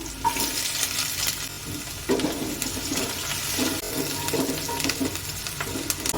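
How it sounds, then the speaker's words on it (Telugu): Sliced onions and green chillies frying in hot oil, a continuous close sizzle with bursts of spatula stirring and scraping against the pan at irregular intervals, no voices. "ఆనియన్ పచ్చిమిర్చి బాగా వేగాలి బ్రౌన్ కలర్ రావాలి"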